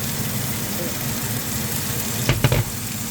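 Oil sizzles steadily in a pan while tuna sarciado cooks, a continuous broadband hiss with a few louder crackling bursts near the end, close and moderately loud.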